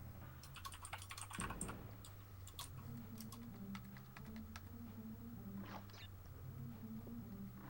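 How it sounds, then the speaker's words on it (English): Quiet, rapid typing on a computer keyboard during a Crash Bandicoot speedrun, with irregular clusters of close, crisp keystroke clicks over a low steady background hum. "When I type, do you hear it?"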